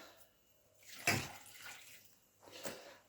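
Water poured into a pan of onions for tripe and onions, heard as two short splashing pours about a second apart, fairly faint and close, with no talking.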